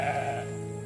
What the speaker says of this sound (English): get Boaz and put him in here with the other sheep.